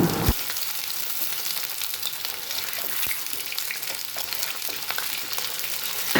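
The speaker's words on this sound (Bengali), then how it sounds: "এবার দিয়ে দেব ঝোলের জন্য পরিমাণ মতো জল।" Water goes into a frying pan for fish curry gravy with onion and brinjal, setting off a loud, steady bright hiss of sizzling that continues without talk.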